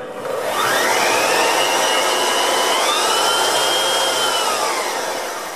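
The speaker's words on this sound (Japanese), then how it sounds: "このベルトサンダーはブラシモーターで、誘導モーターじゃなくてブラシモーターですので、トライアックで回転数の調整ができます。" A speed-controlled belt sander with a brushed motor whirs loudly and steadily as a plane blade is sharpened on it, the pitch rising and shifting slightly with the grinding contact before winding down at the end.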